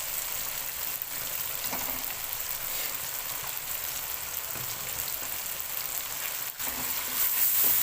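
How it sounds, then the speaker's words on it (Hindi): Ground red chili, coriander and turmeric roasting in a hot pan for a cabbage curry, giving a steady, close sizzle and crackle throughout with a few faint stirring scrapes and no voice. "इन मिसालों को अच्छी तरह भूनकर"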